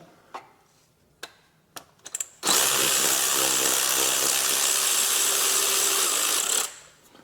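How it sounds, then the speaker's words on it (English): A Ryobi electric ratchet with an extended neck spins a nut off a GM 1.4L direct-injected turbo in a loud, steady whirring run of about four seconds, preceded by a few sharp clicks and taps. "Now this Ryobi electric ratchet with the extended neck is pretty tough"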